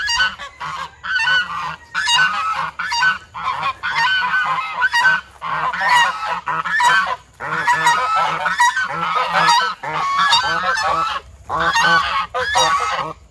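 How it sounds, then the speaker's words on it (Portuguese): Geese honking on a small farm in Nova Resende, Minas Gerais: a flock calls loudly and continuously in overlapping bursts of harsh honks, close by, with no talk. "Deixa eu ver os gansos aqui."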